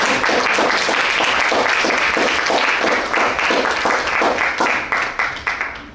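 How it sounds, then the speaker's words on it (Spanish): Audience applause for a speaker at a mathematics education talk, a dense, steady wash of many hands clapping close by that thins out and fades over the final second. "Un aplauso para él."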